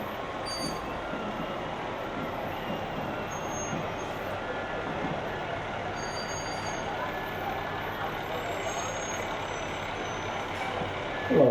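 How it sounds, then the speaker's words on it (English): A fire truck, Rainbow Lakes Fire Department Truck 623, rolls past in a Labor Day parade, a steady engine rumble with brief high beeps over a constant crowd background. "Right behind them is the Rainbow Lakes Fire Department, represented by Truck 623."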